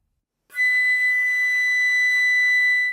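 Flute holding a single high fourth-octave note fingered with thumb key, L1, L3 and the T2 trill key, a pure steady tone entering after a short silence and sustained alone, close and clear.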